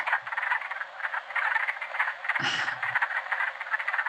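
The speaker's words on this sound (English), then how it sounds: "Wood frog, this is another fun sound." Wood frogs calling in a steady chorus of rapid, clucking croaks, with one louder, nearer call rising briefly above the rest.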